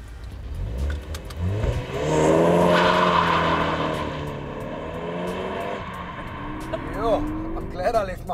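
A Ford Focus ST accelerates with a rising engine note and audible torque steer conditions, heard from inside the car, while people talk and laugh over the engine throughout.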